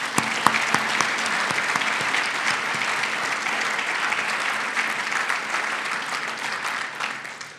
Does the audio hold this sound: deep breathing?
no